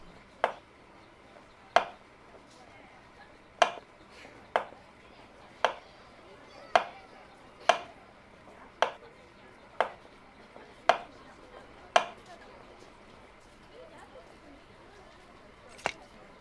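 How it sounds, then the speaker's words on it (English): A knife slices raw fish for sashimi in the video game Cooking Simulator, a dozen crisp, evenly spaced cutting thuds standing alone over quiet background. "Let's do sashimi slices."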